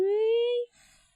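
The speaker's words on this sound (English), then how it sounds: "Oh, there's a police siren." A police siren from the video game Dai Gyakuten Saiban 2: a single sustained electronic tone rising slightly in pitch for about half a second, loud and clear, then cutting off into quiet.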